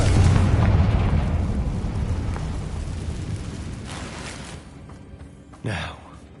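Explosion from the Confringo fire spell in Hogwarts Legacy: a heavy rumbling boom that slowly fades, followed near the end by a short, sharp burst.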